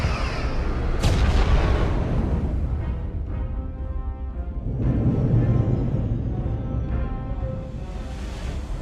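Starship weapons fire and impacts in Star Trek Resurgence during a space battle, heavy booming blasts with a sharp hit near the start and another rumbling swell midway, loud and without talk.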